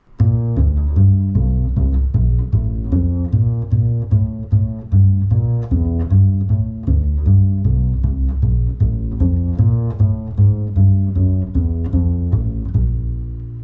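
A solo upright bass plays a rhythm changes line, a steady walking line of plucked notes with some quicker passing figures, close and clear with no talking.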